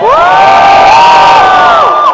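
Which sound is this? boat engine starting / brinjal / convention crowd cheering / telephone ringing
convention crowd cheering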